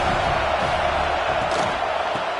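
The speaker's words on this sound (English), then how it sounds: "This crowd bringing the energy and noise early." Football stadium crowd at an Ole Miss vs Tennessee college game, a loud steady roar filling the whole stretch with no breaks, surging slightly midway.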